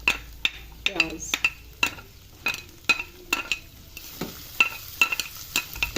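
Onions frying in a pan with garlic while a utensil stirs them, repeated sharp scraping clinks over a soft steady sizzle, close up.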